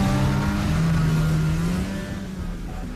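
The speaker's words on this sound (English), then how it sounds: "These scientists are driving up on the Mýrdals glacier, one of the largest glaciers in Iceland." Vehicles drive up the Mýrdals glacier in Iceland, their engines producing a loud, continuous droning rumble close by that eases slightly toward the end, with no talk.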